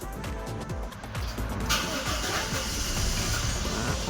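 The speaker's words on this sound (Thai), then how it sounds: "เหยียบเบรกแล้วก็กดที่ปุ่มสตาร์ทนะคะ" A Toyota car engine with an aftermarket push-button start cranks and catches, then settles into a steady idle hum, close by with no talking.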